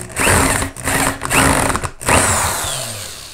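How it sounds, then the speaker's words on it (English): Cordless power drill driving a screw into wood while building DIY Halloween stanchions: three close bursts of whirring motor, each spinning up and cutting off, the last trailing away as the bit slows. "I'm just going to drill that in now."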